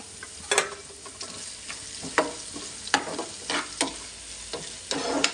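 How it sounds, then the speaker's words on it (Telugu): Sliced onions with salt fry in a pan for a low-oil raw banana fry, a soft continuous sizzle broken by sharp ladle clicks and scrapes against the pan at irregular intervals, no talking. "ఒకసారి ఉల్లిపాయలు ఎలా వేగినాయో చూద్దాం"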